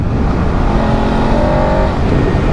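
A 2023 BMW F850 GS Adventure motorcycle pulls hard in third gear around 4,000 RPM, a steady, loud engine drone with a sustained tone under wind noise and no talking.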